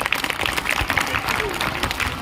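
Audience clapping for a student in an indoor self-improvement session, a brief dense patter of many hands at steady moderate level, with voices mixed in.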